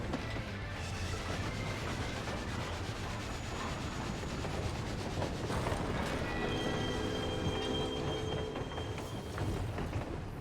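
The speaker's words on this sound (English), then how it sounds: "That was a train." A train rolling past in Final Fantasy 14, a steady dense rumble of wheels and carriages with metallic squeals and tonal whines layered on top, loud and continuous throughout.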